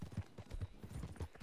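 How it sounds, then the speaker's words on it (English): Hooves clip-clopping in a steady, even rhythm, soft and low, a horse walking nearby with no other sounds. "Get over here, you stupid horse."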